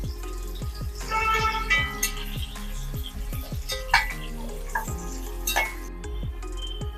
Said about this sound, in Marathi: कांदा आपण हलका सोनेरी रंग येईपर्यंत परतून घेणार आहोत